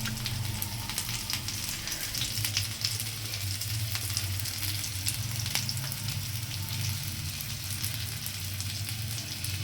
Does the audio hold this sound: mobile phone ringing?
no